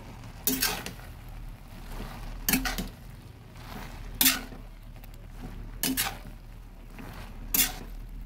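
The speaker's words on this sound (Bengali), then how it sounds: "ভালোভাবে নেড়ে মিশিয়ে দিচ্ছি ডালের সঙ্গে" A spoon or ladle clanks against a metal pot five times at regular intervals of roughly two seconds while chopped pumpkin leaves and green chillies are stirred into dal, over a low background hum and no talking.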